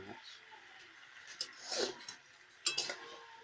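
A meat curry is stirred in a pot, giving scattered utensil scrapes and metallic clinks against the pot, with a couple of sharper knocks, while a person talks nearby.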